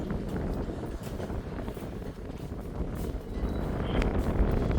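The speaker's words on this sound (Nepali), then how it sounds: "हावा चाहिँ मर्ने गरेर हावा चलिरहेको स्याम एकदम जोडले चलिरहेको अवस्था छ" Strong, cold wind gusts across a hilltop view tower at Mudku Bhanjyang near Tarkeshwor, a steady loud roar buffeting the microphone throughout and swelling stronger toward the end.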